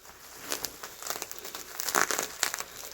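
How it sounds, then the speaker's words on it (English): Plastic and paper wrapping around a commissioned custom lightsaber crinkles and rustles as it is slowly pulled away, with scattered close crackles and tearing-like bursts over three seconds and no talking. "we're going to take our time unwrapping this thing"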